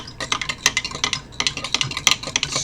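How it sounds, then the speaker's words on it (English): A spoon stirs instant coffee from an MRE in a cup, giving a quick run of close, bright clinks and scrapes in an irregular rhythm with no voices. "Stir that up."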